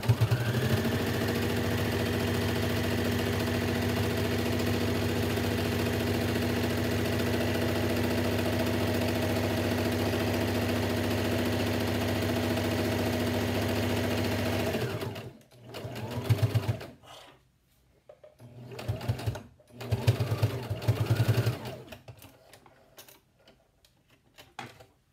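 Home sewing machine running a long continuous line of stitching down a fabric strap for a four-layer washable face mask, loud and close for about fifteen seconds, then a few shorter bursts with pauses, no talking.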